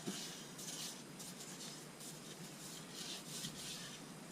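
Steady rubbing of a cloth applying sanding sealer to a turned wooden vase, repeated back-and-forth strokes with a soft rasping texture, close and continuous, no voices.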